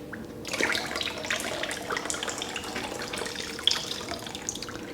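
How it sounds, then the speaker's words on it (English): Water gushing and splashing out of the engine intake pipe of a flood-damaged Kia Ceed GT-Line, a steady close pour that runs continuously with a brief sharp knock near the end. "this is the intake pipe from underneath the engine, and this is full of water"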